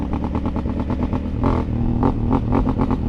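Honda Africa Twin motorcycle engine running close by, a loud, steady lumpy idle pulsing with a deep throb, rising in brief blips of revving.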